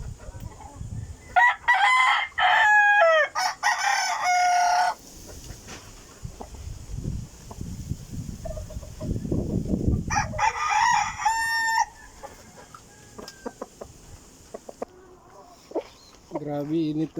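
Backyard chickens cluck while roosters crow loudly in several bursts close by, with someone talking in between and water splashing as the birds are bathed on a hot day.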